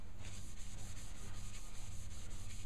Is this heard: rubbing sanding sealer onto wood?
yes